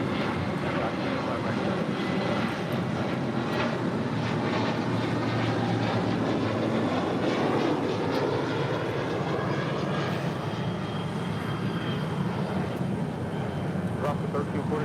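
A Delta Air Lines Boeing 757-300 airliner takes off from runway 25 right at LAX, its engines a loud, steady roar that holds for the whole stretch, with no voices over it.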